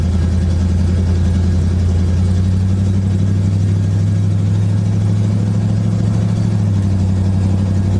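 A 1976 GMC Sprint on its first test drive in years: a loud, steady engine drone with a low hum and a faint shift in pitch as the transmission changes gear, continuous throughout with no talk.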